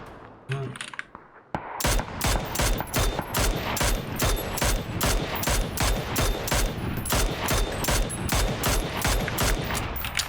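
Rapid bursts of automatic gunfire in the video game PUBG, sharp repeated shots in quick rhythmic volleys, loud and sustained for several seconds.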